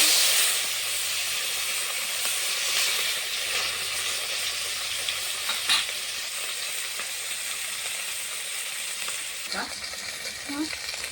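Bata fish frying in hot oil in a kadai: a steady, fairly loud sizzle and hiss runs throughout, with a few brief spatters and light utensil clinks near the end.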